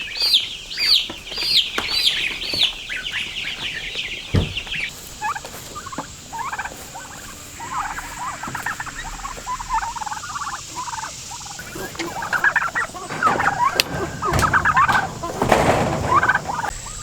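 A flock of heritage turkeys gobbling repeatedly, loud and close, with overlapping calls and clucks throughout and some scuffling noises toward the end.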